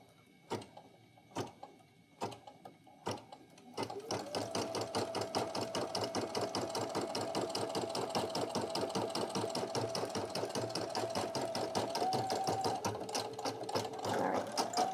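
A Brother PE800 or PE900 embroidery machine stitching: a few separate clunks come first, then a steady, fast mechanical chatter with a humming motor tone runs without a break, loud and close, with no talk.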